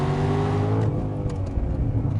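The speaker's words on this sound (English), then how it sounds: "500 horsepower Chevy V8 rocks." Loud, close Chevrolet Corvette Z06 with a 500-horsepower V8 accelerating hard in second gear, a deep harmonic engine roar that climbs then shifts in tone partway through.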